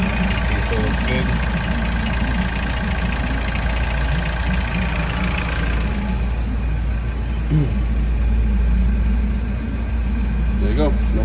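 A MINI R56 engine idles after starting, a loud, steady running hum with a constant rough pulse and no change in speed.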